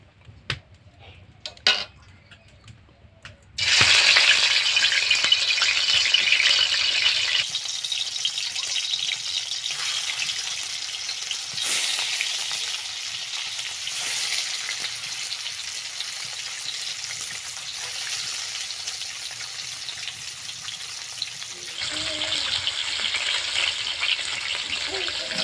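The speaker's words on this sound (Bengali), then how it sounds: "এবার আমি মাছটা ভেজে নেব।" Rohu fish pieces coated with turmeric and salt fry in hot oil, a sudden loud sizzle bursting in after a few quiet clinks, then a sustained crackling hiss that fades slightly and swells again near the end.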